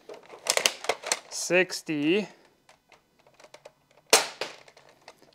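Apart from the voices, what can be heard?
modified airsoft gun shooting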